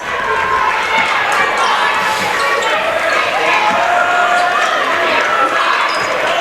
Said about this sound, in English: And Portland crowd getting a little life.